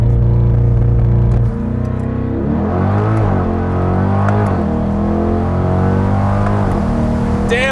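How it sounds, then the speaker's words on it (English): A 2021 C8 Corvette Convertible launches hard with launch control and paddle shifts, its engine roaring loud and close as the revs climb and drop through quick gear changes, with no talking over it. "Launch control, but with the paddles."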